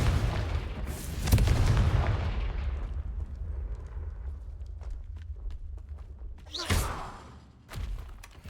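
A Confringo fire spell bursts in Hogwarts Legacy with a deep, loud explosion that slowly fades. A second sharp blast and a smaller thump follow later, with no talking.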